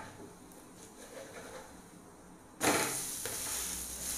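Egg dosa batter hits hot oil in a pan and bursts into a loud, steady sizzle partway through, after a quieter stretch of soft kitchen noise.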